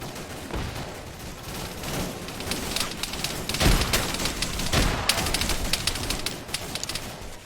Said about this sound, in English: That was a frag grenade.